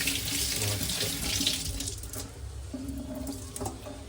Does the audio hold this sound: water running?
yes